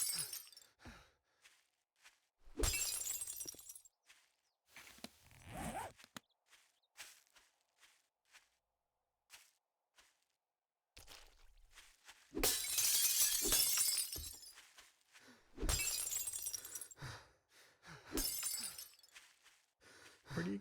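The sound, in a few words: windows breaking in 7 Days to Die video game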